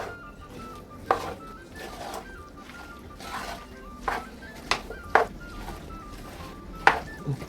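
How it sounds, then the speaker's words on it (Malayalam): Cut mango pieces being stirred into masala for mango pickle, with a spoon scraping and clinking against a pot in scattered sharp knocks over a soft, steady background. "ഇനി നമുക്ക് നമ്മുടെ കട്ട് ചെയ്ത് വെച്ചങ്ങനെ മാങ്ങ ഇട്ട് കൊടുക്കാം"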